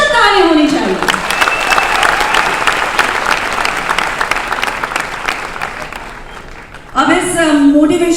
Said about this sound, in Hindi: इन सभी के लिए स्पेशल ताली होनी चाहिए।